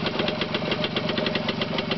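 A Perak 250 motorcycle engine idles close by, a steady low chugging with rapid regular knocking pulses and no voices.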